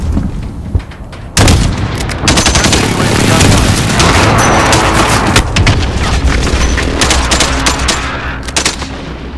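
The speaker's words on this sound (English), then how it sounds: "Enemy precision airstrike inbound." Dense gunfire and heavy blasts from an enemy precision airstrike in Call of Duty: Modern Warfare roll on loudly and continuously after a sharp onset, with a voice speaking amid the barrage.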